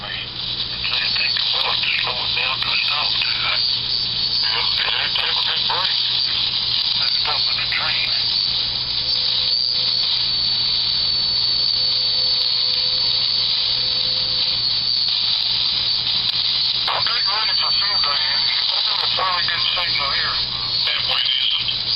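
A homebrew one-tube regenerative radio receiver with homemade coils, heard through an amplifier: a loud, continuous band of hiss and static with a steady hum, faint warbling signals and a brief whistling tone partway through.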